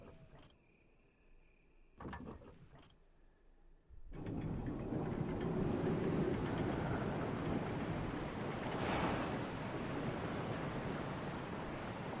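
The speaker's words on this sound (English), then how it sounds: "You can hear the sound of a waterfall in the distance." Distant waterfall in the 2002 Resident Evil remake: after quiet clicks and a brief burst, a steady broad roar of falling water sets in and holds evenly to the end, with no talking.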